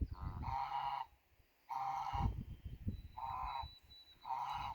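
Several farm geese, including pilgrim and Chinese geese, give four loud nasal honking calls in short bursts separated by brief pauses, fairly close.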